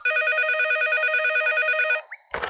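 A cartoon telephone rings loudly in a steady repeating electronic trill for about two seconds, then cuts off with a short clunk as the receiver is picked up.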